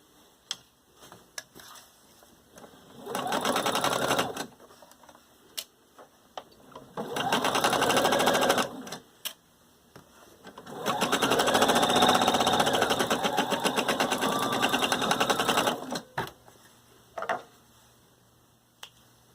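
A sewing machine stitches a garment side seam in three bursts of rapid, close mechanical clatter, separated by quiet pauses with scattered ticks and clicks of handling.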